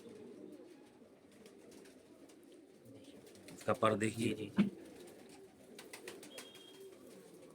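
Rampuri-breed pigeons coo in a short, throaty burst mid-clip, close by. Quieter chirps follow, and someone speaks softly around them.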